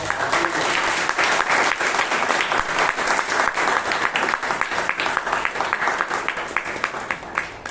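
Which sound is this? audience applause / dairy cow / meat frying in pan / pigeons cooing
audience applause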